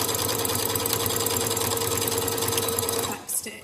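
A sewing machine stitches a seam on a fabric face covering, running in a steady fast close whir for about three seconds before stopping with a brief clatter.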